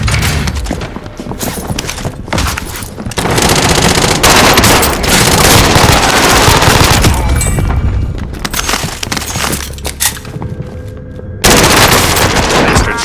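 Automatic gunfire and bursts of shots crack continuously in the Warzone battle royale video game on Rebirth Island, loud and dense, mixed with thuds and a brief voice in the background.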